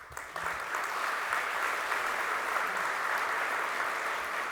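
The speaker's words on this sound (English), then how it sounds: "each of you deserve the applause and the celebration for making that step" Sustained applause from a conference keynote audience, steady and fairly loud clapping throughout with no talking.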